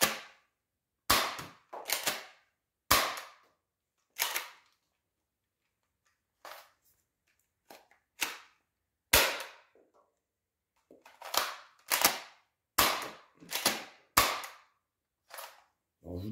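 Gecko toy dart blaster firing Quick Darts, a series of sharp snapping shots spaced unevenly, some single and some in quick bursts, loud and close with quiet gaps between.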